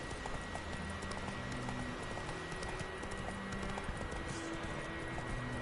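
Roach, the horse in The Witcher 3, moving along with steady rhythmic hoofbeats over a constant ambient bed, moderately loud with no talking.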